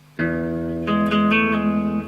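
A guitar plays the opening notes of a song's intro: one sustained strike, then a quick run of clear picked notes ringing out close and alone.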